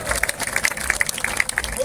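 Crowd at a village political rally in Baroda, Haryana, clapping in a steady, dense wash of applause, moderately loud, with broken claps and some voices mixed in.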